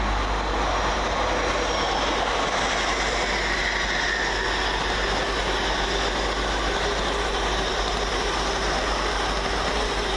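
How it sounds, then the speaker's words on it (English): LNER Class 801 and Class 800 trains pass through Peterborough station, making a loud, continuous rumble of rolling wagons and engine drone with a faint high squeal, sustained throughout with no voices. "Next through the station is 801-108 and 800-202 for LNER, working 1A19 from Bradford Forster Square to London King's Cross."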